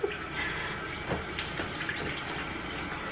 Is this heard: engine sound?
no